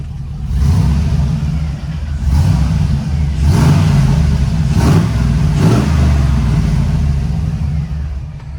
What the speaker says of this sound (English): just kind of sounds like a truck with an exhaust while you're cruising